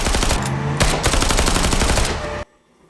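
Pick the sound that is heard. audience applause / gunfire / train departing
gunfire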